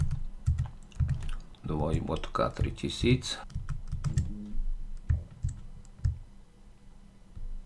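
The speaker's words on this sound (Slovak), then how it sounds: "teraz si tu napíšem požadovanú URL adresu" Quick bursts of typing on a computer keyboard as a URL is entered, close and crisp clicking in uneven runs, with someone speaking over the keystrokes.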